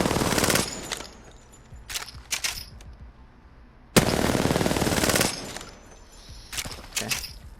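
Bursts of rapid automatic gunfire from the player's favoured gun during a first-person shooter aim warmup, several loud sustained strings separated by short pauses, with no talking.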